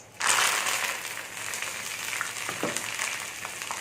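Cashew nuts sizzle and fry in hot oil in a pan as a tempering for pongal, a steady bright crackle that starts suddenly and carries on with small pops throughout.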